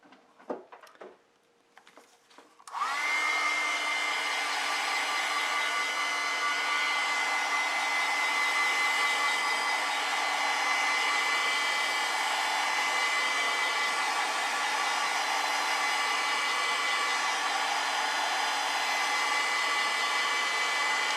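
A hair dryer dries a watercolor painting. After a few seconds of faint clicks and handling, it starts up and runs as a steady, close, loud whirring blow for the rest of the clip.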